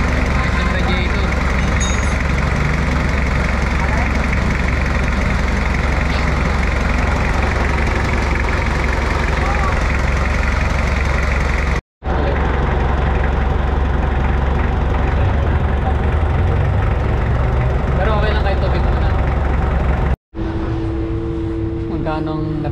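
A Mitsubishi Adventure engine idles steadily after a radiator swap to a full-aluminum unit, loud and close with a constant rumble, broken by two brief cutouts, as people talk over it.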